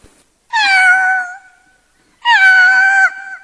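A comedian on stage at an Onam night show in Singapore imitates an angry cat with his voice, producing two loud, drawn-out, whining meows separated by a short silence.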